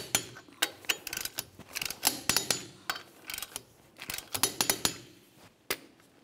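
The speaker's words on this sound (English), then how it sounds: "let's go ahead and torque this to 100 foot-pounds." Sharp mechanical clicks and ratcheting from a torque wrench as a wheel on a 2005-2010 Chevrolet Cobalt is tightened to 100 foot-pounds, arriving in irregular close bursts with quiet gaps.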